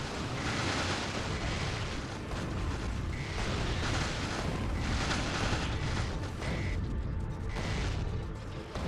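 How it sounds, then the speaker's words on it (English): In a train-themed video game, artillery fire, lasers and Tesla gun blasts combine into a dense, continuous wall of rumbling explosions and crackling energy bursts, steady and loud throughout with no pauses. "Artillery fire, defender capsules, a couple personal lasers and the Tesla gun."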